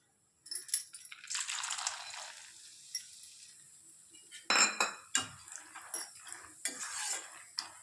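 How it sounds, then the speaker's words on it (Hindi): Dry fruits drop into hot ghee in a kadhai and are moved about with a metal spoon. Sharp clinks and scrapes against the pan come in bursts alongside brief crackling, close and fairly quiet, with no speech. "अब हम एक एक करके सारे ड्राई फ्रूट को तलेंगे"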